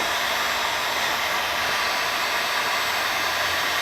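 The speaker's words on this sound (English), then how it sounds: "I just hold the heat gun back behind the board for a few seconds and start to warm it up" A heat gun set to high blows behind a circuit board to warm it, giving a loud, steady rushing roar of air that stays constant and close throughout.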